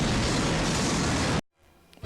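A pipe bomb from Harry Potter Puppet Pals goes off in one loud, dense blast that fills the sound for over a second, then cuts abruptly to near silence with a faint rustle.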